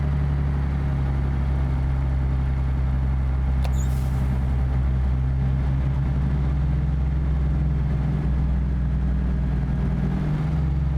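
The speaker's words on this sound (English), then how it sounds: "We'll turn the engine fan on here." A heavy truck in a driving simulator idles with a Caterpillar 3406B diesel as its engine fan cuts in, adding a steady whooshing roar over the continuous low rumble, close and constant throughout.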